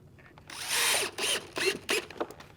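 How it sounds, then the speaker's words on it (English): A screw is driven into a rawhide standard cantle binding on a saddle, heard as several close, loud whirring bursts from a power driver with short pauses between, no talking. "then I'm going to place a screw"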